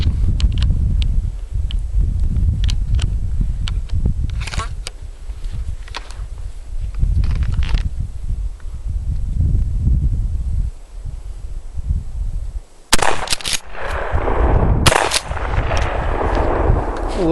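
A Mossberg 590 pump shotgun with a Blackhawk Compstock fires very old Imperial 2 3/4 inch 5-shot shells outdoors, heard as a string of loud, sharp booms with rustling and handling sounds between them, ending in several close, harsh blasts.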